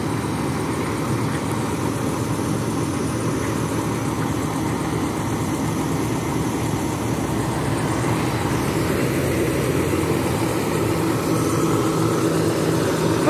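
A bus engine idles steadily at a busy evening rest stop with its engine cover open, a continuous low rumble and hum that stays even throughout with no speech.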